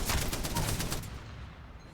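Rapid bursts of weapon fire in Apex Legends crackle at moderate loudness for about a second, then trail off into quieter ambient noise.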